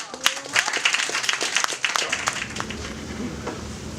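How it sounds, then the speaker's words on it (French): Applause from an audience at an open-stage slam night in Liège, a scattered burst of individual claps that thins out after a couple of seconds into a lower murmuring crowd. "Un maximum de bordel d'applaudissements pour NK de Liège"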